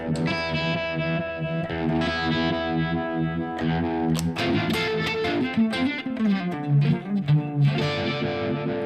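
Electric guitar played through a Univibe pedal placed ahead of an overdrive for a classic tone, with sustained chords and single-note lines that have a swirling, throbbing modulation and gritty distortion, and no voice over them.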